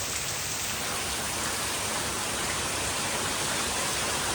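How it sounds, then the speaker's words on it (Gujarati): Steady rain falls outdoors at a farm where Kankrej cows are kept, making an even, dense hiss on surfaces that holds constant throughout, with no voices. "વરસાદ પડતો હોય"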